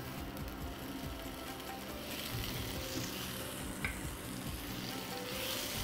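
Tomatoes frying with onions in a pan, a faint continuous sizzle with soft stirring scrapes, steady and close, with no voices.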